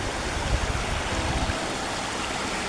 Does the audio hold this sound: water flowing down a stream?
yes